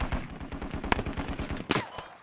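Rapid automatic gunfire in the military shooter SQUAD, a quick run of close, sharp shots in steady rhythm with a couple of louder cracks standing out.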